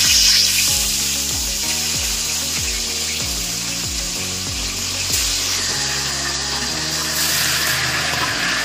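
Marinated chicken dropped into hot oil and ghee, a steady close sizzle with bubbling. A rhythmic repeating low thud runs underneath.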